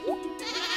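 A brief chorus of bleating and neighing farm animals in Stardew Valley, loud and overlapping, rising into a wavering mass of cries with no talking.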